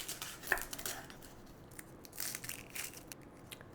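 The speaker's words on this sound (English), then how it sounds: "I'm gonna go ahead and dice up my shallot." A knife dices a shallot on a cutting board in a quick burst of crisp, close chops, followed by a few sparse, quieter cuts, with no talking.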